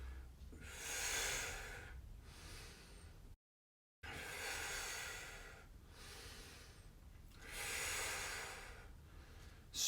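Slow, heavy breaths during a Pilates workout for the lumbar spine, hips and glutes, with long airy exhales and inhales repeating in a steady rhythm. They sound close and alone, with one brief silent gap.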